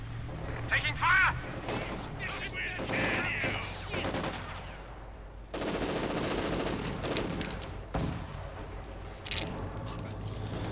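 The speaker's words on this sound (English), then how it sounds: "A fresh Panzergun squad just trained by Hans just got wiped out there by the heavy mortar." Gunfire and heavy mortar blasts in the Company of Heroes 2 real-time strategy game, dense battle noise with bursts of shots and booming impacts throughout, a commentator talking over the fight.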